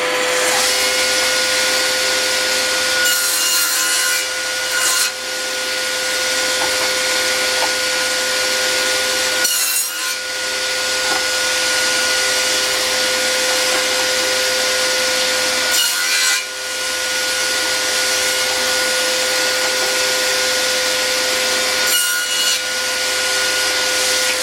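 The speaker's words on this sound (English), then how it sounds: "I've got the table saw set up now for cutting these tenons" A table saw cutting tenons on wooden door stiles, a loud steady high whine of the running blade with a motor hum underneath, briefly changing pitch as each cut passes through the wood, close and continuous with no talk.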